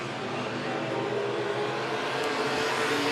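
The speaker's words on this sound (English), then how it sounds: "Watch out, Patrick Lewis gets around that 32 machine" Late model race cars roar around Monett Motor Speedway in a heat race, a steady, loud wall of engine noise from several cars at once with no break or pause.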